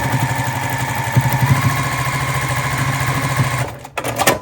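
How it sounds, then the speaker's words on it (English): A sewing machine runs a straight seam on a tote bag, a loud steady mechanical whir with a quick stitching rhythm that stops near the end, followed by a couple of brief clicks. "we're just going to sew a straight line"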